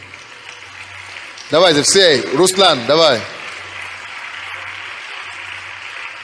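Audience applause at a crowded gathering, a steady hiss of clapping running the whole time beneath a man's loud, energetic speech in the middle.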